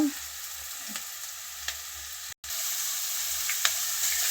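Soya chunks (meal maker) fry in a pan with spices, a steady sizzle broken by soft scraping stirs and one brief dropout, with no voices heard.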